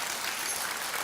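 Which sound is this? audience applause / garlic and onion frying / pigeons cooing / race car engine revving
audience applause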